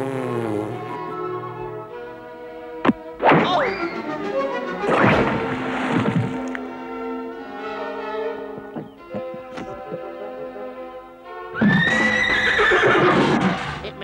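A horse whinnies loudly several times in a period drama setting, with long harmonic neighs rising near 12 seconds, separated by quieter snorts and a thump.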